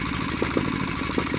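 A small engine running on hydrogen from a tank at 20 psi chugs steadily in a brief, close, even-paced burst.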